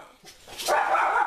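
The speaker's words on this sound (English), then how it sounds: "My dogs are barking their heads off like per usual." Several pet dogs bark loudly indoors, a short burst of sharp yaps close by.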